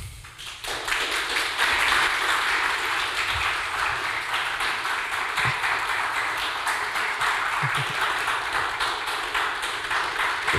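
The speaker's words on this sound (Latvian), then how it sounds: "Aplausi!" Applause from an audience at a project closing event, steady dense clapping that starts abruptly and holds at a strong, even level for around ten seconds with no talking.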